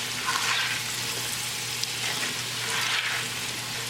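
Spiced potatoes sizzle in a hot skillet while being mixed, a steady close frying hiss with faint stirring swells and one small tick midway.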